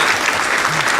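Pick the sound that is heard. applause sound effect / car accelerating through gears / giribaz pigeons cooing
applause sound effect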